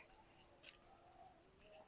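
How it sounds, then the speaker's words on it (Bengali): Crickets chirp in a steady, evenly spaced rhythm of short high pulses, fairly faint, with no voices. "ঝিঝি পোকা ডাকে"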